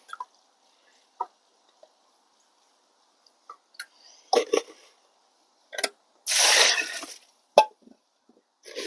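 Water drips and splashes as PON mineral plant substrate is rinsed, with scattered wet droplets and squishes and one longer gushing pour near the end, all fairly close and quiet.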